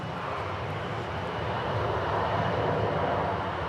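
Jet aircraft sit waiting on the runway at DFW airport during slow de-icing, giving a steady, moderately loud engine drone that holds evenly throughout with no speech.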